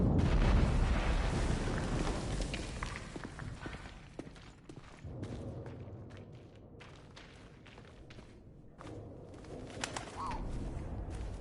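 Bird calls in a war-themed video game scene with a German soldier, chirping intermittently over a dense, rumbling backdrop of game ambience.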